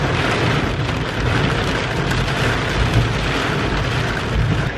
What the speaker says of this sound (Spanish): Teníamos que llegar nosotros a McDonald's y empezar a llover.